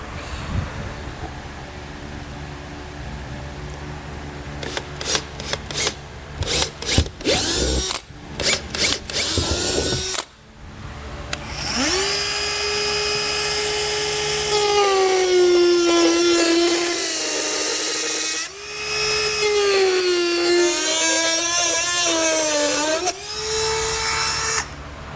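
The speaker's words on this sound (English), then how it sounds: "You'll start out with a 3/8 inch drill bit, drill out your 4 corners" A series of short, loud bursts from a power drill with a 3/8 inch bit, followed by a long, whining Dremel cutting a plastic panel on a 2022 Jeep Wrangler, its pitch rising and falling with the load.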